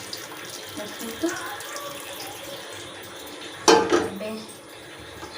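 Water pours briefly into a cooking pot while homemade paneer curry is prepared, a short splashing burst midway through over quiet kitchen background; a voice speaks a word.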